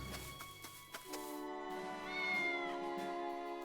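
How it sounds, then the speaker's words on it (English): A cat in the video game Triangle Strategy gives a drawn-out meow amid the game's tonal music and chimes, clear and moderately loud, with no talking. "Very important cat is still here. You didn't make it out, kitty."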